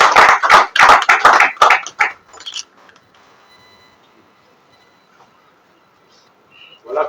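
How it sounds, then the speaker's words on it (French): Audience clapping at an official installation ceremony for a customary affairs administration secretary general, a loud burst of claps for about two seconds that thins out and fades, followed by quiet room tone. "Applaudissez, s'il vous plaît."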